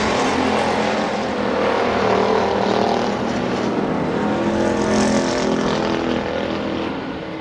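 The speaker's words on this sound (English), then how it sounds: "Now him and Brandon Miller down the back straightaway, side by side, battling for that 4th position" Race cars in a heat race at Billings Motorsports Park roar past side by side down the back straightaway, a loud, continuous engine drone with shifting pitch that swells and fades slightly over the whole stretch.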